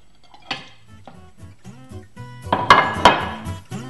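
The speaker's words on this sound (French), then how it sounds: "On ajoute maintenant le tofu soyeux en le mélangeant bien." A spoon or whisk working clafoutis batter with silken tofu in a bowl, giving a run of irregular clinks and knocks against the bowl that grow louder and busier toward the end.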